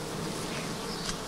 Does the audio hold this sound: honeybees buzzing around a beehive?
yes